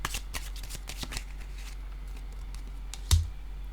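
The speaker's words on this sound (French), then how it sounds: "je vais déposer une carte sur faire des efforts" Playing cards being handled during a tarot-style reading: a quick run of soft riffling taps early on, then quiet, and one sharp card laid down near the end, close and alone.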